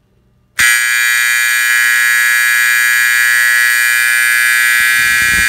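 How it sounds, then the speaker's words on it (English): A Simplex 4051 fire alarm horn cuts in abruptly after a brief quiet moment, then blares as one loud, steady, buzzing electronic tone that holds unchanged to the end. "Next up is my Simplex 4051."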